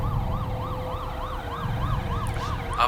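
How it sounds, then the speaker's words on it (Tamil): An ambulance siren wails in a steady rising and falling pattern over low road rumble, clear and close throughout, with a brief knock at the end. "ambulance ambulance"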